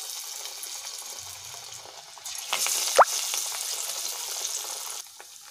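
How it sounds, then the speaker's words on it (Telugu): Banana vadas deep fry in hot oil, a soft steady sizzle and bubbling that swells midway with a sharp splash or clink, then settles back to a quieter fizz. "ఇలా వడలన్నీ వేసుకొని 2 సైడ్ బ్రౌన్ కలర్ వచ్చే వరకు ఫ్రై చేసుకోవాలి."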